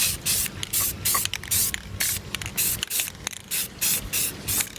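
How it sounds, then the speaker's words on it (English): Rust-Oleum spray paint hisses from a can onto a bike in a light first coat, short sharp bursts of spray repeated about a dozen times in a quick irregular rhythm, close by. "this is me putting the final coat on. I'm just using Rust-Oleum paint. Just gonna hit it just very light for the first coat of this stuff."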